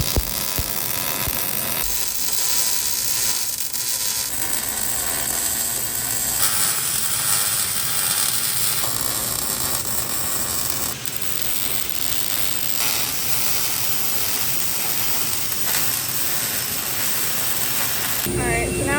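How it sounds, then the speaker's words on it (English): MIG welding on the steel roll cage of a dirt track race car, a steady dense crackling buzz running continuously with brief pauses between beads, close and loud. "Let's finish welding up this cage."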